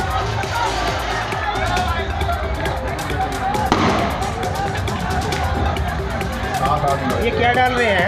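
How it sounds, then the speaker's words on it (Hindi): Firecrackers popping in quick, sharp cracks amid a noisy crowd outside a police station, a dense run of bangs layered over loud shouting and chatter throughout. "ये पटाखे कहाँ से बोल रहे हैं"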